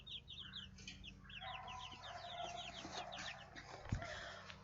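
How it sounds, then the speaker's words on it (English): Baby chicks peep softly and faintly, with quick high chirps repeating in an overlapping flurry over a low background hum. "Let's look at the chicks one more time. Can you hear them?"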